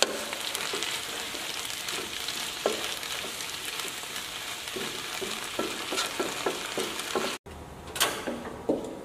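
White cabbage with red chili sizzles steadily in a pan during stir-frying, with scattered scraping and clinking of a spatula, then a brief gap before the sizzling and stirring resume.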